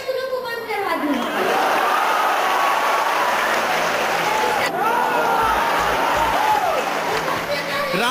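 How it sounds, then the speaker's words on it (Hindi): An audience in Bihar, with the Chief Minister present, claps for a seven-year-old boy's speech, a sustained burst of applause mixed with crowd murmur and some laughter and voices. "लोग तालियां बजाते रहे"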